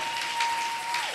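Church congregation applauding during a sermon, a dense wash of clapping from many hands that fills the space, brief and steady, with a faint tone held underneath.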